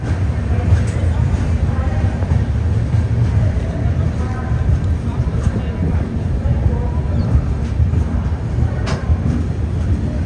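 Steady low rumble of the Jan Shatabdi Express pulling out of Varanasi station, a dense continuous roar with faint clicks and knocks over it, fairly loud throughout.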